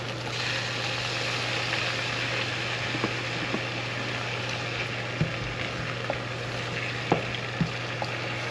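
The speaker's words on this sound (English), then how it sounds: "we got the saute going, butter, garlic, seasoning going. So now we're gonna add the shrimp" Shrimp sautéing in a pan with butter, garlic and seasoning for a gourmet seafood dish, giving a steady, loud sizzle and fry with a few light clicks of a utensil stirring, heard alone.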